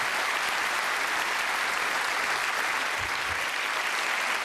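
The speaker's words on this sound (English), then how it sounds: "a nice round of applause for our musicians" Steady, loud audience applause fills a comedy show venue, a dense wash of clapping from a large crowd that holds evenly for several seconds in honour of the band's musicians.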